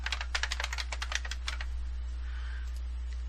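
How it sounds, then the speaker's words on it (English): Quick run of computer keyboard keystrokes during SolidWorks CAD drafting work, about a dozen crisp close clicks in the first second and a half, then only faint room hum. "type that in."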